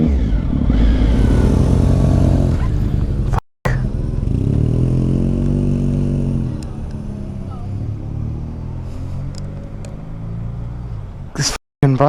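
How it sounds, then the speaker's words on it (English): A motorcycle refuses to start: a loud starter and engine grind cranks repeatedly without catching, close to the mic, with a brief cutoff midway and another near the end. "I can't get the bike to start."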